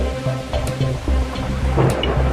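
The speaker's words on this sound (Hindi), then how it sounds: "बारिश है कि थमने का नाम ही नहीं ले रही" Heavy rain pours steadily with rumbles of thunder as a village boy heads to school, a dense continuous wash of sound with louder swells and no voices.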